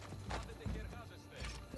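A horse in an Assassin's Creed video game plods with soft, rhythmic hoof clops heard under a voice as he talks.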